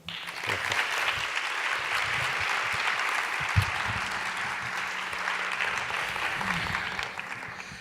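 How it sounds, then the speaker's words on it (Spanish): Audience at an education congress applauding as a speaker is introduced, steady dense clapping that fills the hall for several seconds, loud and sustained. "us demano un fort aplaudiment"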